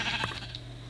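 A single sheep bleats in the Minecraft video game, a short, fairly close call heard alone over a low steady background hum.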